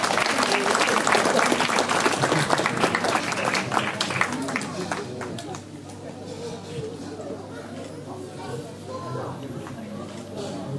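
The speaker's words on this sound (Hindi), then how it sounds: "भाई मॉर्गन और उनकी फैमिली के लिए जोरदार तालियां" A 60th birthday celebration crowd claps loudly for Rev. Morgan Bhatti and his family; the applause starts strong, then gradually thins and fades, with chatter and murmuring voices mixing in toward the end.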